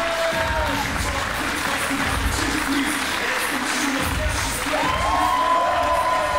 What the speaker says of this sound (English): these people are applauding the War Machine right now